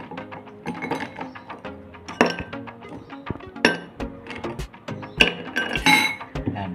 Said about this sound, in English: add some ice cubes.